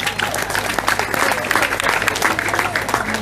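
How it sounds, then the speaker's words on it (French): Vigorous audience applause at an awards evening honouring the Club Sportif Moulien, with close, dense clapping and a few voices calling out within it, holding at a steady, loud level throughout. "Vos applaudissements s'il vous plaît"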